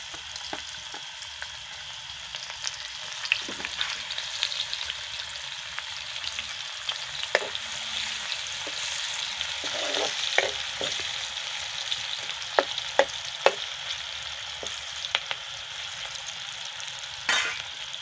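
Onions frying in hot oil for an Assamese fish curry, a steady soft sizzle with scattered crackles and occasional stirring clicks, close by and without speech.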